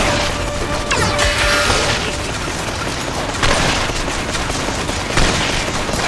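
Gunfire from the co-op action game Killsquad, sustained bursts of shooting and booming impacts against enemies, loud and continuous with crashing hits and mechanical clatter throughout.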